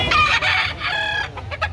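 A nearby grey gamecock clucks and crows in a couple of loud, harmonic bursts, followed by short choppy clucks.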